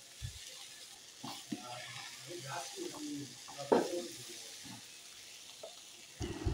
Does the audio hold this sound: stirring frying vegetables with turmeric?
yes